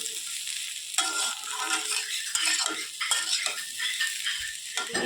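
Potato vegetable curry stirred in a pan with a metal spoon, giving irregular scraping and clinking strokes over a soft continuous sizzle, close up and with no talk.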